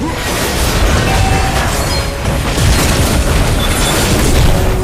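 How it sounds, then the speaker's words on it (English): A turret blows up in a multiplayer online battle arena game, a dense, roaring explosion rumble that stays loud and continuous throughout, layered with crackling bursts and faint game effects in the background. "Your team destroyed a turret!"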